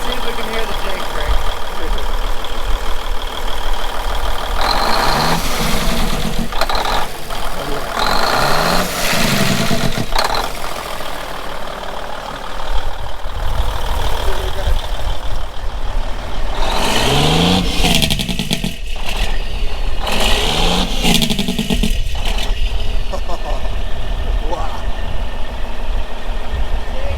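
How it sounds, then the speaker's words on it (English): A 1996 Freightliner FLD120 semi truck's engine rumbles close by, with repeated harsh, loud bursts of Jake brake chatter against a steady idle. Voices speak in between the bursts. "Let's see if we can hear the Jake brake."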